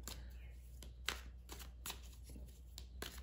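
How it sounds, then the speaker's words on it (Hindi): Tarot cards being drawn and handled from a deck, a close run of soft flicks, slides and taps repeating at a brisk, uneven pace. "चलिए पहले मैं निकाल लेती हूँ सारे कार्ड्स"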